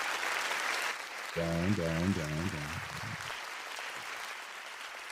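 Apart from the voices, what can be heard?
applause, clapping sound effect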